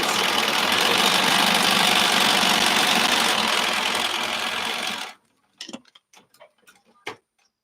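A sewing machine runs fast and steady for about five seconds while stitching quilt pieces together for a boomerang block. The whir cuts off abruptly and is followed by a few scattered light clicks and taps.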